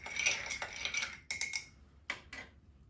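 A spoon clinks and scrapes inside a glass of commercial orange juice for a cocktail, quiet rapid tinkling taps in short bursts, close and alone.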